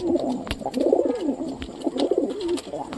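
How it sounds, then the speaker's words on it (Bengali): A pigeon coos close by in a night-time pigeon setup, two bursts of soft, throaty rolling coos with a brief pause between them and no talk. "এই কবুতরটাও ঠিকঠাক আছে।"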